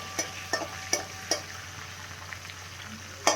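Red chilies frying in oil for sabudana khichdi: a low, steady sizzle with a spoon clacking against the pan in a loose, repeated rhythm, about five sharp knocks, close by, with no talking.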